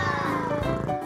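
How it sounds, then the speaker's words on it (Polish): A cartoon cat meows in a high, whiny voice over a busy bed of children's cartoon music, one drawn-out call lasting about a second and sitting up front in the mix. "O, śliczny kotek!"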